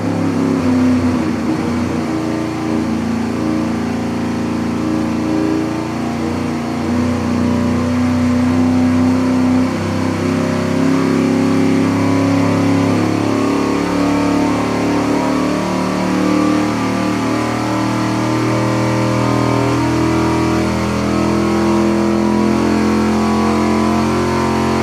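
A race engine on a dyno during a slow 100 RPM test pull roars loudly and continuously, its pitch climbing gradually, with no talk over it.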